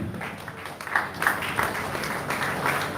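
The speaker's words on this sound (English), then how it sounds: "Who is not clapping already for that?" Audience applause at a Lagos health information management professionals' celebration in a hall, steady scattered clapping from many hands, moderately loud and continuous throughout.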